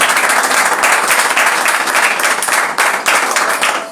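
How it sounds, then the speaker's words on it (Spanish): A church congregation applauds during a Spanish-language service, with loud, sustained clapping from many hands filling the room. It stays dense and even throughout and dips only briefly near the end. "Si este aplauso es para Cristo, que se sienta"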